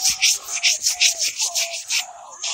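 Sandpaper rubs back and forth over Bondo body filler in about ten quick, rhythmic strokes, a close, raspy scratching that slows at the end, with no talking.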